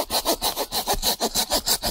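A hand saw cuts through a dry branch outdoors at a riverside campsite, with steady back-and-forth rasping strokes, about a dozen even pulls in quick rhythm, close and loud with no talking.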